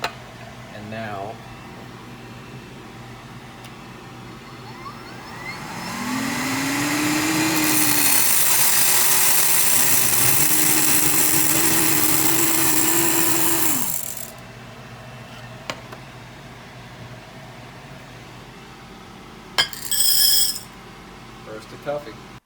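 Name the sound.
coffee roaster running at the end of the roast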